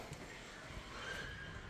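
A Budyonny breed colt neighs once, close and fairly loud, in a short, rising whinny over faint outdoor background noise.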